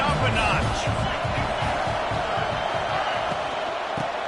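A football stadium crowd in an NCAA video game keeps up a loud, continuous roar, with a commentator talking over it.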